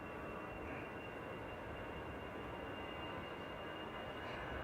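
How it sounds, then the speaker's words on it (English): A Finnair Airbus A319 departs Manchester Airport for Helsinki, a steady broadband engine roar that holds loud and constant throughout with no letup, a dense rumble rising into a hiss above. "So this is Finnair departing back to Helsinki with flight 1366. A319 today."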